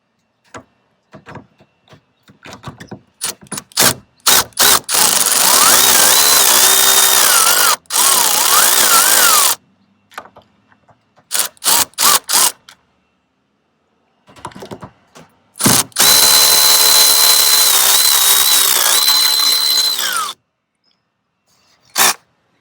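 A power tool drives out 10 mm fasteners on a 2004 Toyota Camry side mirror, with short trigger blips and two longer whirring runs whose pitch shifts under load, loud and close, with pauses between.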